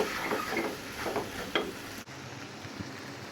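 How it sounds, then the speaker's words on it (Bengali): Noodles stirred and tossed in a frying pan over steady sizzling, with a couple of soft utensil scrapes before the sizzle drops away, and no speech. "একদম ভালো করে নেড়ে চেড়ে মিক্স করে দিব হুম এই যে মিক্স করে দিচ্ছি"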